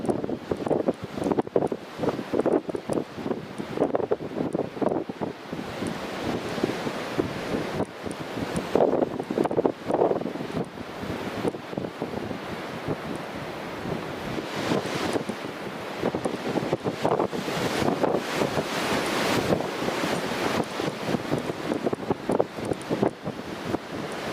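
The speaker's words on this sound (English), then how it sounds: "It's still gusting." Strong wind buffets the microphone continuously at Newcastle International Airport, rising and falling in rough gusts with a constant roar and no voices.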